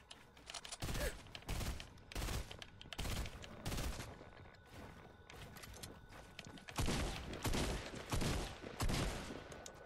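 Gunfire in the video game Fortnite crackles in repeated loud bursts and rapid volleys over about ten seconds, with short pauses between the fusillades.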